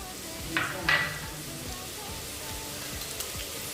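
Spices, curry leaves and chicken sautéing in a hot pan for pepper chicken gravy, a steady close sizzle with a couple of brief scraping stirs near the start.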